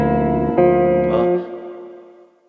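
Out-of-tune acoustic guitar strummed, one loud chord struck and left to ring, with a second softer strum partway through before it slowly decays; no talking.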